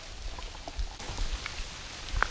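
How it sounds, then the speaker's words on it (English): Rain from a hurricane falls steadily in a soft, even patter of drops on surfaces, fairly faint, with a few louder individual splashes and no voices. "we're getting a lot of rain"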